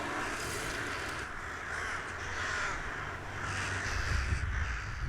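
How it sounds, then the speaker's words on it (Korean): Rooks wintering over from Siberia in a Korean industrial city caw repeatedly from a flock, harsh calls overlapping at moderate distance over a steady background hum. "이들은 시베리아에서 겨울을 나기 위해 찾아온 떼까마귀."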